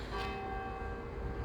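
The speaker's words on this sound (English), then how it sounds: "there's the bell." A church bell strikes two o'clock in a graveyard, a single sustained ringing tone with long humming overtones that hangs steadily over quiet outdoor background noise.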